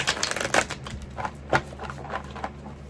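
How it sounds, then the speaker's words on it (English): Tarot cards being shuffled close by, a run of soft irregular riffles and slaps in quick bursts, with no voices. "I'm gonna go ahead and start to shuffle"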